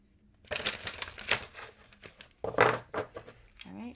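Tarot cards are shuffled by hand in a quiet room, with a flurry of close, crisp papery riffles and slaps in short irregular bursts, each dying away into near silence.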